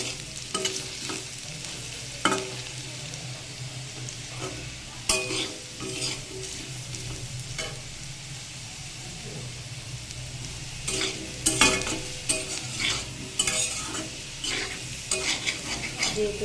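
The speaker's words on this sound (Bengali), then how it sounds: "আলুটাকে কিন্তু লাল লাল করে ভেজে নেব" Potatoes fry in a blackened wok, oil crackling under repeated scrapes and clinks of a spatula stirring the pieces, near and moderately loud with no voices.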